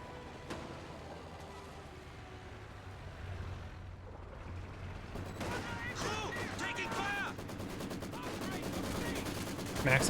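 A Maxim machine gun fires in Company of Heroes 2, its dense rapid rattling bursts filling the back half amid other battlefield gunfire and rumbling explosions.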